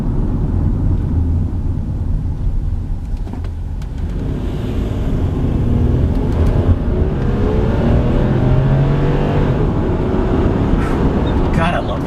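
A 2002 Subaru Outback L.L. Bean Edition with the 3.0-liter H6 on the road, a steady low engine and road drone heard from inside the cabin, with a voice talking over it near the end.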